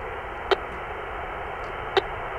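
Radio telemetry receiver tracking a tagged buff-breasted sandpiper in a farm field: two short, sharp beeps about a second and a half apart over a steady hiss of static.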